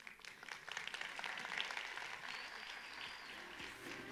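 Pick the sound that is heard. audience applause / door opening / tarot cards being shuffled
audience applause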